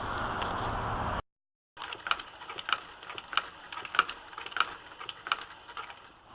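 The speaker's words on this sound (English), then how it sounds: "You can hear that the wheel makes a little bit of noise as the foot pedal hits the bottom base of it." Light, irregular knocking and clicking of a Hitchhiker spinning wheel's foot pedal hitting the base, soft and close, following a brief dropout after a noisy opening.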